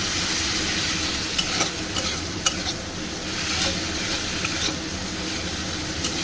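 Green chilli paste frying in a pan while being stirred, a steady close sizzle with a few scraping clicks from the utensil, continuous for about six seconds with no talk.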